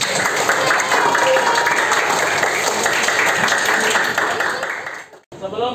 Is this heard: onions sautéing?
no